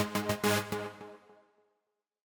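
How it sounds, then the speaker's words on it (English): Big sawtooth synth chords are chopped into rapid rhythmic pulses by a trance-gate LFO, loud and bright at first, then decaying into a fading tail, followed by a brief return at the end. "It's just like these big saw chords that are basically kind of modulated with this LFO right here that's got kind of a trance"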